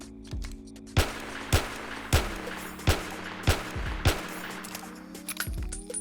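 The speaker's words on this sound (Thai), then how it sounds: "อันนี้เป็น Smith and Wesson Model ตัว 29 Revolver" Smith & Wesson Model 29 revolver fired in 7 Days to Die, eight sharp, loud shots at roughly half-second to one-second intervals, each with a short echoing tail over a humming background.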